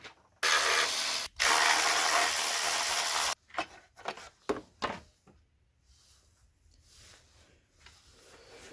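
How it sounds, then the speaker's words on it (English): A ratchet with a 10mm socket loosens the timing belt cover bolts on a VW B5 Passat 2.8L V6. A long, loud spinning buzz is followed by several short, close clicking bursts, then quiet. "And now I'm gonna remove this timing belt cover. I'm using 10mm socket."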